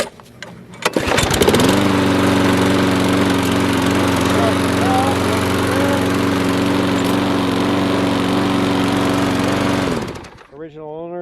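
A Troy-Bilt self-propelled lawn mower with a 6.75 horsepower gas engine starts up and runs at a loud, steady drone for about nine seconds before cutting off, heard close up.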